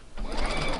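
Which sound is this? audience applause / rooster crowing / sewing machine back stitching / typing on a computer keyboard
sewing machine back stitching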